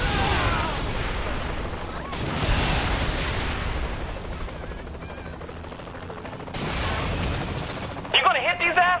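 Bursts of gunfire and booming blasts from a shootout in the video game Saints Row: The Third, loud rattling volleys at start and near the end under excited character voices.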